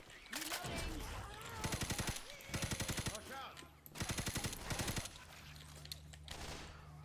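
Automatic gunfire in the zombie shooter Left 4 Dead 2 comes in three rapid bursts of rattling shots over game ambience. Someone talks between the bursts.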